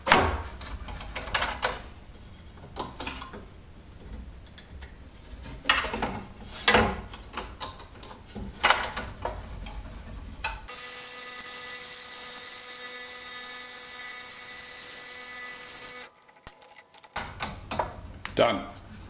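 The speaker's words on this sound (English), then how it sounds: "you can easily drill a hole through this and then you put the saw blade through it" A saw blade cuts through a piece of wood in a steady, loud mechanical drone lasting several seconds, set between stretches of talk and knocking handling noises.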